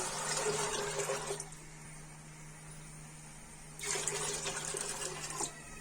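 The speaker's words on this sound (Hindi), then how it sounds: "2 बाउल पानी डाल दूंगी।" Water pours into a cooking pot for chana pulao in two steady rushing bursts, with a quieter pause between them.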